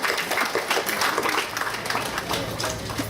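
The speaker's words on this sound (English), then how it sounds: "to give yourselves a round of applause" A room full of people applauding at a boys' school graduation ceremony, dense steady clapping throughout at moderate loudness, with no other sound standing out.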